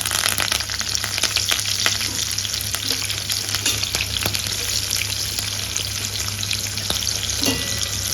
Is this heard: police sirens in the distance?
no